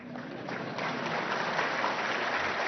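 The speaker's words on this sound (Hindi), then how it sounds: "ये तो आपका विषय है, ताली बजा सकते हैं।" An audience applauds at the Supreme Court of India's diamond jubilee ceremony, a dense sustained burst of many hands clapping that swells slightly and holds at a steady level.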